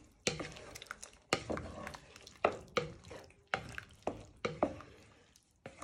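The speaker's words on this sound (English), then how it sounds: "Give them a little bit of a stir in." Lentils stirred with a utensil in a pan for bacon and lentil soup, giving about ten quiet, close scraping strokes at a steady rhythm.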